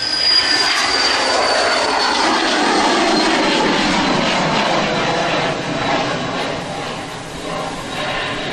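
An airliner takes off and climbs away from Manchester Airport, a loud broad jet roar that holds steady and then slowly fades as it gains distance.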